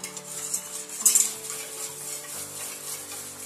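Mushroom and apple salad with curry being tossed in a bowl, giving a soft, close stirring and clicking of utensils with one brief louder clatter, steady and without talk.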